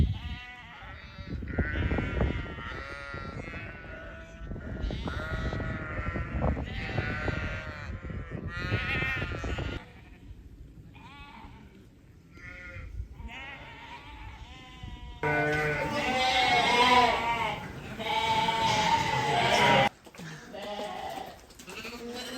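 A flock of sheep and lambs being gathered in on a farm, bleating constantly in overlapping calls from close and farther away, loud and busy throughout, with a voice briefly heard among them.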